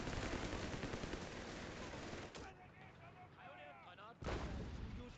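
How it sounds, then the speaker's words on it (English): Heavy gunfire and artillery in Company of Heroes 3 roar as a dense, continuous barrage, easing briefly midway under a warbling radio-like voice before the loud blasts surge back. "That's enemy fire. On us."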